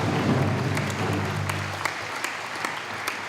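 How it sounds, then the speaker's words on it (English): Audience applause at a treaty settlement agreement signing ceremony, a steady burst of clapping from a crowd that gradually thins into scattered claps. "So I'd like to applaud Peter on that on behalf of us."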